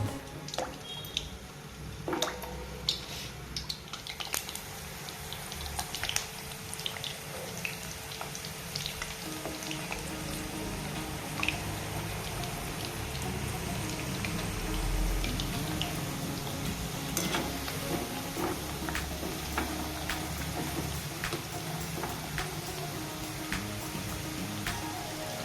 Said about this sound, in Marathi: चांगलं तेलात तळून घ्यायचे।